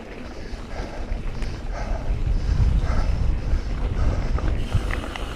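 Strong wind gusting during a mountain bike ride, a loud, continuous low roar buffeting the microphone that swells and eases, with no talking.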